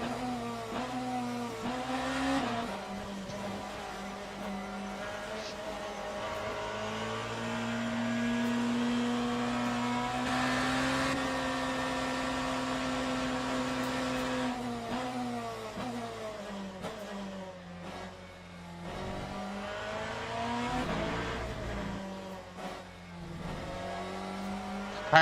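A race car engine in a racing video game drones steadily at high revs on the Imola circuit, pitch rising and dipping through gear changes and corners, loud and continuous with no talk.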